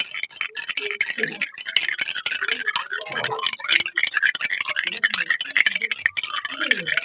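A spoon stirs sugar into sherbet to dissolve it, quick rhythmic ticking and clinking against the glass going on steadily and close, with a voice speaking faintly beneath.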